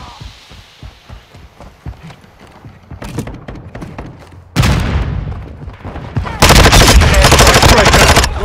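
Heavy automatic gunfire and explosions in the Call of Duty: Modern Warfare II video game, starting as sparse rapid bursts and building into loud, dense sustained firing with booming blasts near the end.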